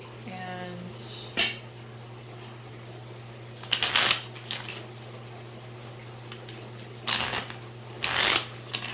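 Tarot cards shuffled by hand in repeated bursts of riffling and slapping, close and fairly loud, separated by quieter pauses over a steady low hum.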